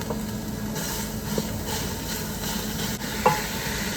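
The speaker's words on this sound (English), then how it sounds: "Next, you're going to take your ground meat of choice and brown it for 5 minutes." Ground meat browning with onions in a pan for chili, giving a steady close sizzle and hiss throughout with a few faint stirring scrapes.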